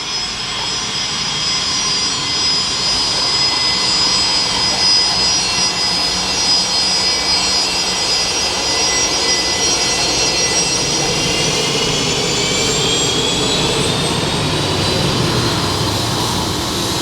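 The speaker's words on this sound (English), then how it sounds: "we got an airport pause because we got G4 going by" A Gulfstream G4 jet roars past at an airport, a loud continuous engine rush with a high whine that slowly shifts pitch, filling the whole stretch with no talk.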